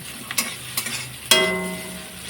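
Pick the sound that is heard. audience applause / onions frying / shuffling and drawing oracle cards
onions frying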